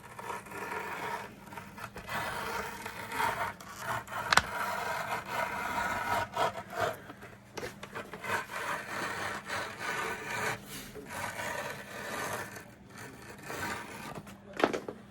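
Stitching being cut and pulled out of the sole of an Alden Indy boot during a full Commando resole, a soft irregular rasping and scraping close by, with occasional sharper snags.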